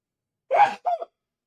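A single sneeze from a person indoors, a sharp sudden burst followed by a shorter second exhalation, close and fairly loud, with no talk around it.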